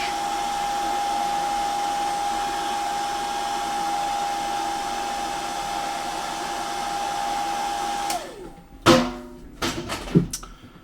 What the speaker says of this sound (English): Hairdryer is an essential component to this approach.